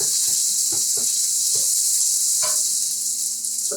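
Onions and peppers sizzle steadily in a hot pan, a bright continuous frying hiss punctuated by a few soft clicks and scrapes of stirring, close and alone without talk.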